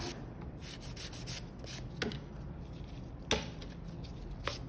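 Finishing file sanding fiberglass nail extensions on bitten nails: quiet, close, rapid scratchy rubbing strokes in short back-and-forth bursts, with a couple of slightly sharper scrapes.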